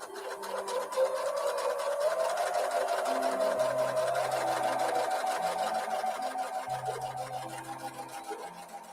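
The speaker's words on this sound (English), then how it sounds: "I will now take a couple of these strips up to the sewing room and sew a scant 1/4 inch seam" A sewing machine runs steadily, stitching a scant quarter-inch seam along fabric strips for half square triangles, with a continuous close whirring hum and a rapid needle rhythm and no talking.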